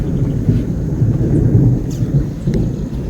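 Heavy thunderstorm at a campground: continuous loud low thunder rumbling with steady rain underneath, a few sharp drops or crackles standing out, no voices.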